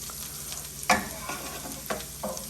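Succotash stirred with a scoop in a heavy pan greased with bacon fat, a soft continuous sizzle with a few distinct scraping strokes, close by and without talk.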